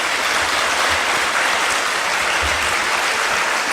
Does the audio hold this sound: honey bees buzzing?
no